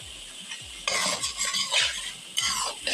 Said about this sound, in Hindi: हम इसको आपके सामने मुसलसल हिला भी रहे हैं और इसको फ्राई भी कर रहे हैं